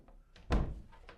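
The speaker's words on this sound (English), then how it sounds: "Shut the door, make sure it's secure." A door with an over-door shoulder pulley strapped across it shuts with a single dull thunk, near and moderately loud, with faint knocks just before and after.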